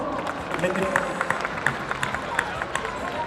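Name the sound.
audience applause at a cosplay show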